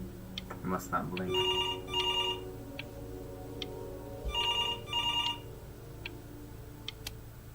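Telephone ringing in the video game Before Your Eyes: two pairs of bright trilling rings, moderately faint, over quiet ambient music with a ticking, clock-like pulse and some voice at the start.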